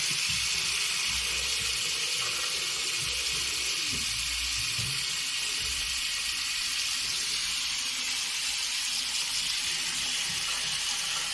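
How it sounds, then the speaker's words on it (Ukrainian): Water steadily filling a bathroom washbasin after its slow drain was cleared, a continuous hissing flow from the tap heard alone at close range without pause. "Бачимо, що водичка у нас теж набирається, хоч і не так різко."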